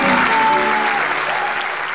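Audience applause in a radio tribute to a fado singer, a dense, steady wash of clapping from a large crowd that holds loud and even for the whole stretch without a voice over it.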